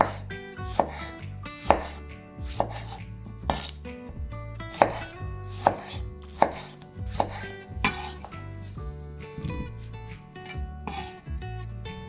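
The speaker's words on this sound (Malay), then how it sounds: "Tomato 1 biji, potong kasar." A knife coarsely chopping a tomato on a board, about a dozen distinct cuts with uneven spacing, close and clear over soft background music.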